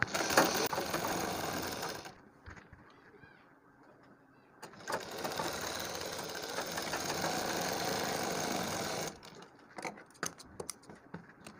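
A sewing machine stitches piping onto a kurti neckline in two bursts, the first about two seconds and the second about four, with a quiet pause between them and light handling clicks at the end.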